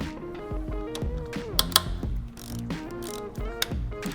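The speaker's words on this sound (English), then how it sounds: "go ahead and take off the 2 10mm bolts holding the intercooler to the piping." Close ratchet clicks while removing 10mm intercooler bolts on a 10th-gen Honda Civic Si, several loud bursts of rapid pawl clicking with brief pauses between strokes.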